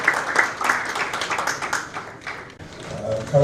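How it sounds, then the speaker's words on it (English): An audience at a corporate event applauds for Theodore Sampa, with steady, fairly close clapping from a crowd that thins out after a few seconds as a voice begins to speak. "Can we give you a round of applause?"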